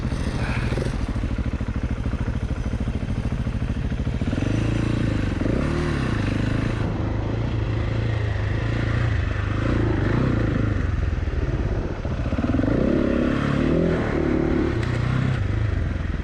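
A Husqvarna 701 motorcycle rides offroad up small hills, its engine loud and close throughout, droning and revving with rising and falling pitch as the rider works the throttle, plus some clatter.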